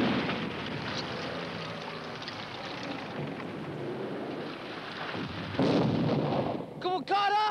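Artillery bombardment on forward combat positions produces a dense, rumbling roar of explosions that swells louder partway through. A voice shouts near the end.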